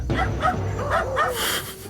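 A dog yips and barks in a steady run of about five high, whiny barks, close and fairly loud, over a low background hum.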